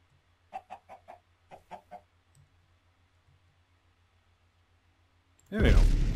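Chicken in a Minecraft modpack (Ars Magica survival game) clucking in a quick burst of about eight short clicks, followed by a loud sudden rush of noise at the end.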